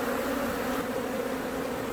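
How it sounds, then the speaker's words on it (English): A large colony of honeybees at an open hive during an inspection produces a dense, steady buzzing drone, loud and close, holding constant with no pauses or voices throughout. "when there's this many bees, they just make a lot of noise, no matter what you do"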